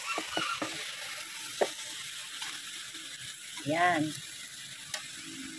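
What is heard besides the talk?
cabbage and green chili stir-frying in fried rice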